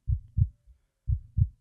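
A heartbeat in an audio drama: two pairs of deep, muffled lub-dub thumps, close and alone in silence, evenly spaced about a second apart.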